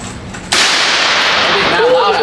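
A suppressed AA12 shotgun fitted with a switch fires full auto in one loud, abrupt, continuous roaring burst lasting about two seconds, close by.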